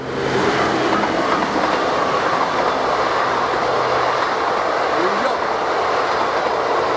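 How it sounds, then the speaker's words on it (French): A train rumbles past continuously, a loud, steady roar of rolling wheels and clatter that fills the whole stretch. "Il y a un train qui passe, c'est vrai, ça fait un peu de bruit."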